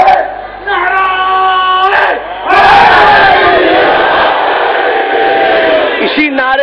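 A Muharram majlis crowd chants a religious slogan: one voice leads with a drawn-out call, then a loud mass of voices answers in unison, a roaring, echoing chorus close by.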